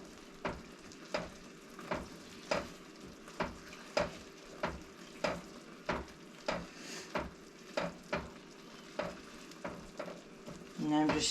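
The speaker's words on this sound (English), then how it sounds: "And I'm just stirring it so we don't get a hot spot where it scorches." Spoon stirring a boiling chocolate peanut butter cookie mixture in a pot on the stove, regular scraping strokes about twice a second over a soft bubbling sizzle, close and fairly quiet.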